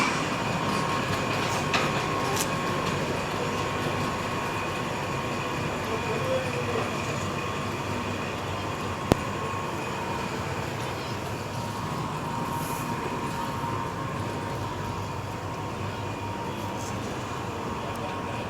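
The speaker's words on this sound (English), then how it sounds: "And now we go to a Reco dumbwaiter climbing lift." Reco dumbwaiter climbing lift in Liverpool running, a steady mechanical rumble and grinding hum with faint rattles and one sharp click partway through, continuous and close.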